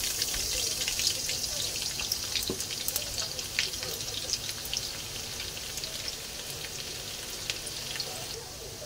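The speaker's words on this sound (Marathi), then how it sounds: "तेल गरम झाले, पहिला लसूण टाकू।" Garlic hits hot oil for a Maharashtrian methi bhaji, giving a steady, close crackling sizzle with small pops throughout and no talking.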